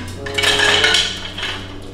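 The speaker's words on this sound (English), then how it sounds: "I'm gonna grab a spatula really quick." Kitchen utensils clink together as a spatula is grabbed while making mini cheesecakes, a short close clatter of metal and dishware over a low steady hum.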